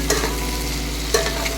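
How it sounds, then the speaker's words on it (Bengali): Onions, tomato, ginger, chilli and garlic stir-fried together in a pan for a chicken dish, with a soft continuous sizzle and two quick scraping stirs of a spoon. "পেঁয়াজগুলো, টমেটো, আদা, লঙ্কা, রসুন সব একসাথে দিয়ে একটুখানি কষিয়ে নেবো"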